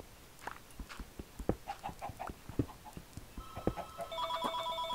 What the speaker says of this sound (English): And that's my god dang phone.